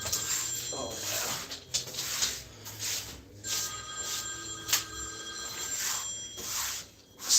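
A cell phone rings indoors in a home kitchen with a wood stove, repeated bursts of an electronic trilling ringtone with short gaps between them, moderately faint, with a few soft knocks and household sounds in the background.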